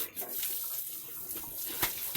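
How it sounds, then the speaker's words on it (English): Water poured over the concrete floor of a pig pen on a farm in Kenya, a steady rushing splash that runs continuously and close by for a couple of seconds, with no talk over it. "So first, I usually pour the water to ensure that the waste that is on the floor"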